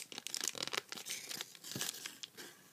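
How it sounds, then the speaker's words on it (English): Paper creased and folded into an origami nesting bird, crisp crinkling and rustling strokes close up in quick bursts, with no voices. "And then you're going to fold up to the top."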